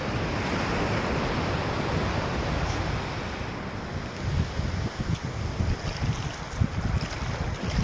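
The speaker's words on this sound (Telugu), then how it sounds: "మనం వద్దన్నా అలలు మన దగ్గరికి వచ్చి తాకుతున్నాయి." Sea waves surge and wash in near Krishnapatnam port, a loud continuous roar of surf with wind buffeting the microphone, then breaking water churning in uneven bursts.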